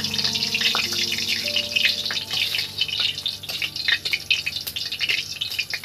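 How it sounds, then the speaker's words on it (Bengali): Two dry red chillies frying in mustard oil in a village kitchen, a steady crackling sizzle with scattered pops and drips, close and fairly loud, with no talk. "দুটো শুকনো লঙ্কা ওর মধ্যে দিয়ে দিচ্ছি। দিয়ে ভেজে নেবো লঙ্কা দুটো।"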